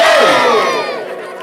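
A crowd at a Shiv Mahapuran religious discourse in Dambhurni, Yawal, shouts a loud victory cry to Lord Kartikeya: many voices rise together in one sustained burst that tapers off over about a second and a half.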